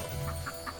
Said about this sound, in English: Oh, we got a rare goose.